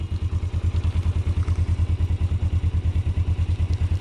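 A 1981 Suzuki GS450S motorcycle engine idles close by, giving a loud, steady, rapid low thumping pulse with a faint mechanical clatter and no talk.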